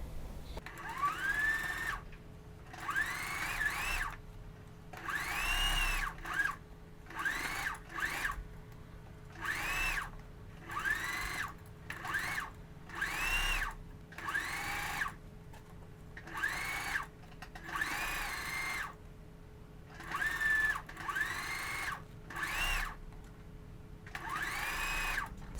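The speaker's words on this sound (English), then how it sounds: "I'll bring this to the machine and I'll just start top stitching, about 8-10 inches out" Sewing machine top stitching a wrap dress, running in a series of short bursts of a few seconds each with brief pauses between, fairly close and steady, with no talking.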